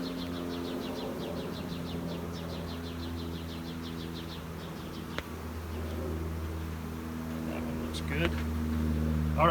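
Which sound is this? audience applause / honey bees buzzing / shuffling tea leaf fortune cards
honey bees buzzing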